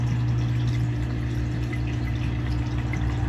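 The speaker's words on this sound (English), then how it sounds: "the water section is complete with a pump that allows for water to flow out of the background" Pumped water trickling down the background of a red-eyed crocodile skink enclosure into a small pool, a steady soft splashing and dripping over a constant low pump hum.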